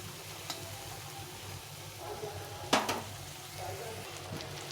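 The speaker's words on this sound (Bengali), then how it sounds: "উল্টে পাল্টে এগুলো ভেজে নিলাম" Pumpkin leaf fritters made from a ground rice and lentil batter fry in oil, giving a steady soft sizzle throughout with a brief louder crackling burst midway.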